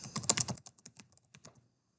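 Quick bursts of computer keyboard typing, a rapid flurry of keystrokes at first that thins into scattered single taps and trails off; close and fairly quiet, with no voices.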